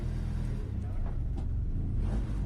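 Racing cars of the WA Excel Cup roll slowly into their grid positions at CARCO Raceway, a steady low engine rumble from a field of about 24 cars, idling and creeping forward close by.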